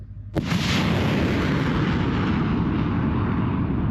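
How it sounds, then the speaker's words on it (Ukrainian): An American MLRS multiple rocket launcher fires: a sudden loud blast launches into a sustained roaring whoosh that holds steady for several seconds as the rocket leaves its launcher. "Американська ракетна установка залпового вогню МЛРС"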